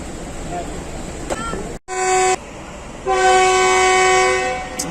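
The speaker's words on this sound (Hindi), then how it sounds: "ज़बरदस्त विसल। और वाल्टन से ट्रेन रवाना।" Pakistan Railways train sounding a loud whistle as it pulls out of Walton station, two sustained harmonic blasts separated by a short pause, the second longer, over steady rail and engine rumble.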